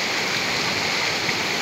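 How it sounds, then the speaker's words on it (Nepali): Rising river water at Bijuli Khola near a power house and suspension bridge rushes in a loud, steady, close roar of flowing stream with no break and no voices. "यसरी खोला बढिरहेछ"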